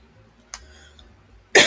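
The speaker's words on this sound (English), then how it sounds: "This is just the cough." Two dry coughs from a lingering cough after a cold: a short one first, then a louder, harsher one about a second later, close and with nothing else around them.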